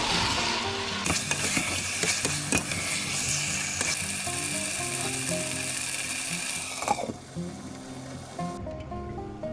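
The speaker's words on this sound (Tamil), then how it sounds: "இது கூட ஊற வச்சுருக்க கோழி துண்டுகளை எல்லாம் சேர்த்துட்டு அதை நல்லா கிண்டி விட்டுட்டு" Marinated chicken pieces sizzle loudly in hot biryani masala in a pan while a spoon stirs and scrapes through them, a steady close fry with clattering stirring strokes.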